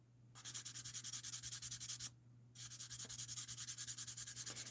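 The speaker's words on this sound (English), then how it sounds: "I don't mind sanding" Sanding by hand produces two runs of quick, rhythmic back-and-forth scratchy strokes, close and steady, separated by a brief pause, over a faint low electrical hum.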